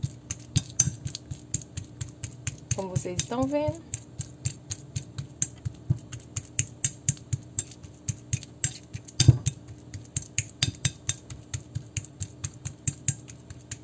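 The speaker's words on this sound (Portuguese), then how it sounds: "aqui a gente vai amassar essa banana bem amassadinha" A fork mashes banana in a bowl for oat banana bread, steady rhythmic clicking and tapping strokes repeating close up, with a short spoken phrase partway through.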